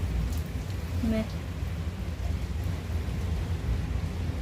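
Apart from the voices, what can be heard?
heavy rain with thunder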